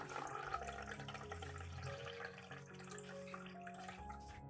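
Vinegar poured into a small pot as part of a chili brine, a steady close liquid stream and splash running throughout with no talking.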